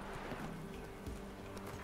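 Quick hoofbeats of Roach the horse being ridden in The Witcher 3 patter faintly through a dense game soundscape over a brief stretch.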